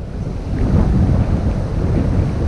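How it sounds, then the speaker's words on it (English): Strong wind buffeting the microphone on a beach, a loud, continuous low rumble with gusty swells and a faint surf wash beneath, no talking. "This wind is terrible."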